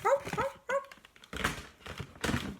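A toy ghost dog named Spencer gives a few short, high yapping barks up close, followed by bursts of broadband rustling and clattering.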